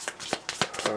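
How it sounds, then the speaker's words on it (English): Cards for the Star Trek Frontiers board game shuffled close up, a quick series of soft riffling bursts in about a second, fairly quiet. "I'm going to try and shuffle that behind the camera"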